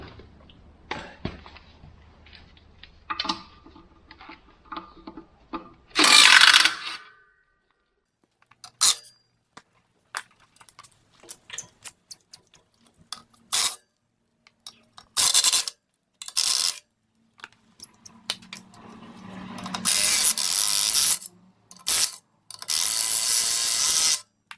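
Ratchet spinning out the bolts that hold a Bedford truck clutch, close and loud, in repeated bursts of rapid clicking separated by pauses, with scattered metallic clinks and no talk.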